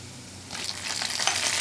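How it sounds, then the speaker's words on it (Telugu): Lentils frying in a pan, a soft steady sizzle that swells after a quiet start and carries on close with a crackling hiss, no voices. "కొంచెం దూరగా వేగాలి పప్పు వేగిన తర్వాత"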